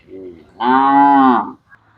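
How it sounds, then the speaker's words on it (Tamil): Cattle in a large pen holding more than 600 head give one loud, drawn-out moo close by, with softer lowing before it. "அறுநூறுக்கும் மேற்பட்ட மாடுகள் நிற்கிறாங்க இந்த பட்டிக்குள்ளே"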